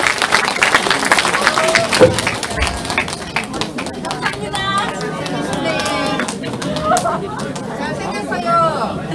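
An audience fills a hall with applause at a political party's book launch event as the next speaker is introduced, dense clapping mixed with crowd chatter and shouts, sustained and loud from start to finish.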